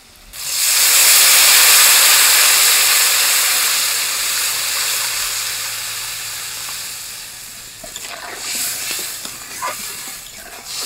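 Water poured into a hot pan of oil with turmeric for a potato and eggplant curry bursts into a loud, close sizzling hiss that slowly fades and settles into softer bubbling and crackling.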